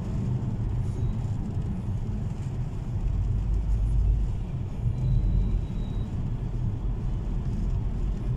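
Heavy lorries pass on a wet, rainy road in Britain, a steady loud low rumble of engines and tyre hiss that swells and fades slightly without pause.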